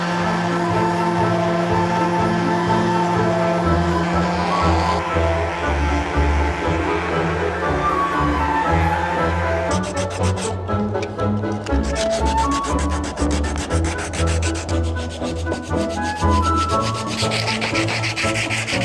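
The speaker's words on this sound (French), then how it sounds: "maintenant je vais y aller avec la plus grande ponceuse" A large power sander works a wooden mirror frame with a continuous loud, close whirring rasp. It shifts in tone and grit partway through as the pressure and position change, with no talking.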